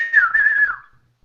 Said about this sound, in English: I whistle after it.